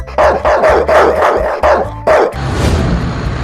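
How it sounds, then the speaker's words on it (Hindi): Several dogs bark in a rapid, loud series of sharp barks close by, then the barking gives way to a noisy rustling background. "बाहर कुत्ते क्यों भौंक रहे हैं?"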